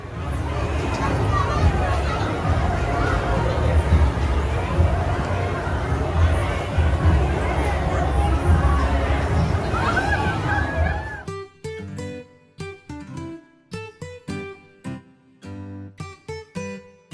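Busy crowd chatter at Disneyland, a dense babble of many voices with occasional laughter, close and steady for about eleven seconds before it cuts off abruptly.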